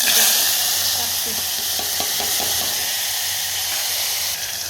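Garlic clove frying in a pan for dal and rice khichdi, a steady close sizzle and hiss with a few soft stirring taps, no talking.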